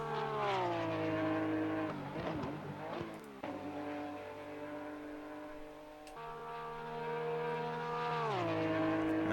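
A Porsche Cup race car laps Monza in Assetto Corsa Competizione, its engine note rising steadily through the gears, dropping sharply on downshifts with brief tire squeal, then climbing again, loud and continuous with no talk.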